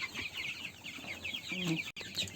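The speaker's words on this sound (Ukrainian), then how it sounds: "А наостанок покажу вам саму свою дорослу птицю" Adult chickens on a small backyard farm cluck in short repeated bursts, with a brief low tonal call partway through and soft rustling beneath, all at moderate distance.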